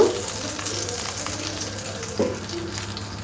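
Two dried red chillies and a bay leaf sizzle steadily in hot oil as a tempering for a prawn and banana stem chechki, with a soft stir or clink near the end, close and with no voices.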